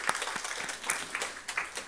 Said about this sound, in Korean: 우리 다시 한번 박수로 환영하겠습니다.